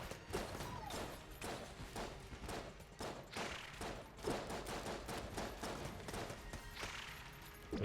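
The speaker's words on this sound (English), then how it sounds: "I'm gonna use the triple gun here." Triple gun firing in an action video game, with rapid bursts of shots running almost without break, dense and continuous at moderate level and no talk over it.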